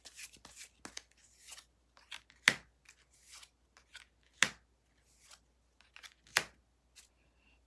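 Tarot cards are drawn and shuffled close up, a quiet run of crisp flicks and papery rustles with a few sharper snaps spaced roughly two seconds apart, and no talking.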